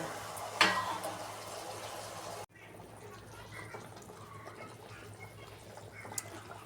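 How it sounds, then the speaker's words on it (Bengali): A splash of water poured into fish curry masala frying in oil, a short louder burst of sizzle at the start, then a steady low bubbling simmer. "কষানো হয়ে গেছে, তেল ছেড়ে গেছে, এবার আমি দেব সামান্য জল"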